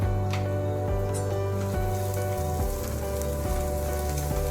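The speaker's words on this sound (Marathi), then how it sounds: "आता यामध्ये कांदा टाकला त्याला पुन्हा आता परत परतणार" Chopped onion sautés in hot oil with bay leaf, cumin, mustard seeds and ginger-garlic paste for palak paneer, a steady close crackling sizzle with faint scraping ticks, continuous and loud throughout, no voices.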